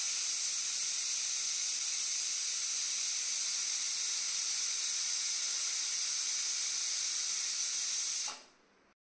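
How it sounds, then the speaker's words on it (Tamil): Steam hisses out of a pressure cooker in one loud, continuous rush, steady for several seconds before it abruptly cuts off and fades to near silence. "இப்போ நம்ம விசில் போட்டு கரெக்டாக ஒரு 3 விசில் குக் பண்ணிடலாம்."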